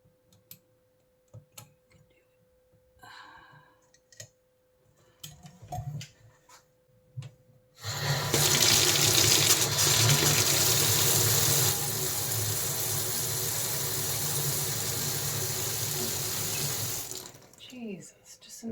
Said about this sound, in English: just an absolute faucet.